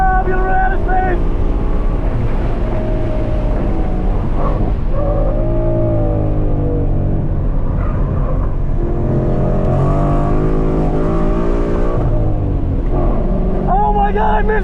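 Ford Mustang GT at speed on a race track, loud sustained engine drone with rising and falling pitch through gear changes, heavy wind buffeting throughout, and a driver's voice over the engine.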